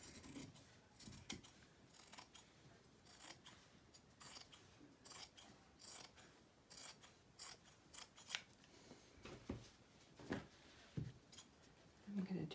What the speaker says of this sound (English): So I'm going to open up the sleeves right here at the